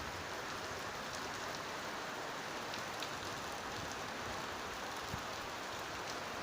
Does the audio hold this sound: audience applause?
no